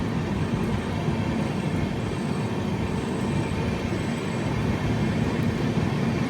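A goods train rolls by alongside near Vijayawada, a dense, loud, steady rumble of wheels and wagons with faint high squeals, heard from a passenger train and without any voices.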